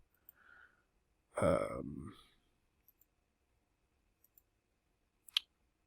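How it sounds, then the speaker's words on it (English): A few faint, sharp mouse clicks scattered after a brief vocal sound, close by and quiet, with a slightly louder click near the end. "I was clicking on the wrong thing."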